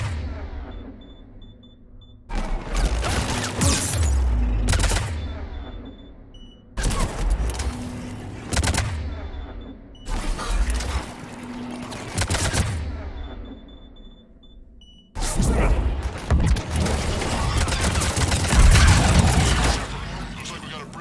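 Gunfire in a Mass Effect 3 firefight: repeated bursts of shots and impacts in several loud clusters separated by brief lulls, with talk in between.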